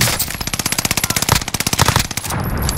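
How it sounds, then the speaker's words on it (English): Rapid automatic gunfire in a four-versus-one video game fight, a long run of evenly spaced loud bursts with brief pauses, ending in a sustained rumble. "Start shooting."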